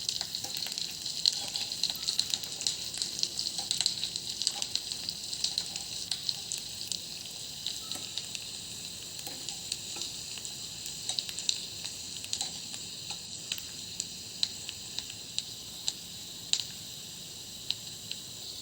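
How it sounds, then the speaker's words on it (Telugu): Tempering spices frying in hot oil in a small pan for palak pappu, a continuous close crackling sizzle with sharp pops scattered throughout and no voices. "వీటిని మంచిగా ఎర్రగా వచ్చే వరకు ఫ్రై చేసుకోవాలి"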